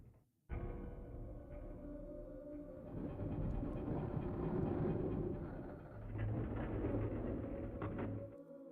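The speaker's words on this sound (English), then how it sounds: "The text called this a sky tram when it is entirely underground." An underground sky tram ride in the N64 version of Resident Evil 2, a steady rumbling rail rolling that starts abruptly and swells and eases over several seconds, heard alone without talk.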